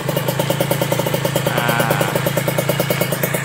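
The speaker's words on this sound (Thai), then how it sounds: "อันนี้คือเสียงเดินเบานะเงียบมากนะครับ" Close, steady idle of an old Victor police patrol motorcycle with its original engine, a soft even putter with regular pulses and light mechanical ticking, no voices over it.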